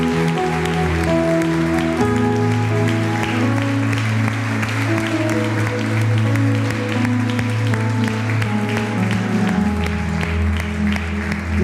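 Church congregation applauds through a steady wash of clapping layered under sustained worship music with held organ or keyboard chords, continuing at an even level for over ten seconds.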